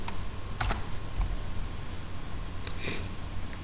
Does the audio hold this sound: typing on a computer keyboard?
yes